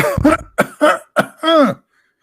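A run of five harsh coughs up close, loud and uneven, the last one drawn out and hoarse, then silence.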